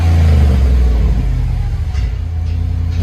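Jeep Grand Cherokee 4x4 Limited with a Flowmaster Super 50 muffler and the resonator left on, revving close by with a deep burbling exhaust that rises then settles to a steady rumble.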